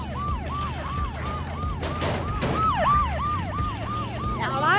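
A police vehicle siren in a video game, a loud wailing tone rising and falling in quick repeated sweeps, joined near the end by a second overlapping siren and a low engine hum.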